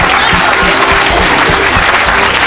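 A church congregation applauds steadily at a loud revival service, dense continuous clapping filling the whole moment with a faint murmur of voices beneath.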